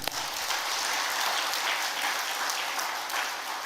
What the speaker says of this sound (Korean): 우리 성가대에게 다시 한번 박수 한번